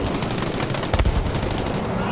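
A BF 109 G6 fighter's machine guns fire in Battlefield V, a loud sustained rattling burst with a heavier thump near the middle, layered over engine roar.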